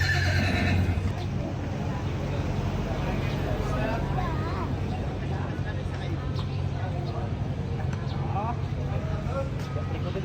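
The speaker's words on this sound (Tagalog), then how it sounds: "Mama, may kabayo ako." A horse at the Strawberry Festival in Benguet whinnies near the start, then hooves clip-clop under steady crowd bustle and nearby people talking.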